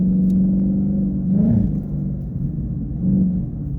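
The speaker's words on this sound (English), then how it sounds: "You can hear my engine revving." A 2016 Ford Mustang GT engine hums steadily from inside the cabin while driving at about 60 km/h on Bridgestone Blizzak winter tires, rising briefly in pitch twice as it revs, with a low constant rumble.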